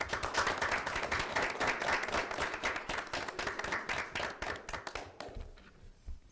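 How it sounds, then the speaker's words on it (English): JROTC cadets at the Academic Bowl championship give themselves a round of applause, a lively mid-sized clapping burst that thins into scattered individual claps and fades out near the end. "cadets, please give yourselves a round of applause for earning your way into the finals here today"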